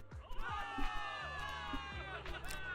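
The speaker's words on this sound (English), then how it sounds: "Cheers rise up from the gathered soldiers." A crowd of soldiers in Zenless Zone Zero cheers and shouts together in a celebratory roar, with overlapping voices and a tonal music bed underneath.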